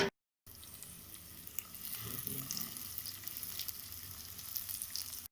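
Kothimbir vadi (coriander fritter) pieces shallow-fry in a pan seasoned with kasuri methi, a steady close sizzle starting after a brief silent gap and continuing without talk.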